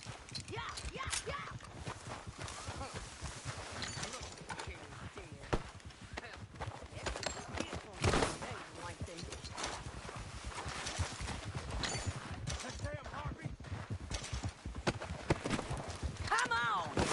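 Horse hooves clip-clop steadily in the video game Red Dead Redemption 2, a rapid rhythmic patter under voices and dense background noise, staying at a fairly even level throughout.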